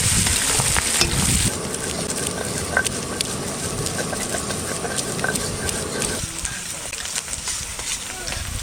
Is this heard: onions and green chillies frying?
yes